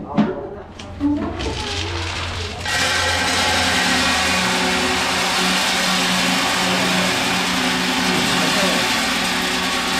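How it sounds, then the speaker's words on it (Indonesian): A coffee roasting machine running with green beans loaded, a steady mechanical motor hum with a whirring drum that settles into a constant drone after a few seconds of lighter clatter and handling sounds. "Kita akan masukkan green bean ini ke mesin roasting."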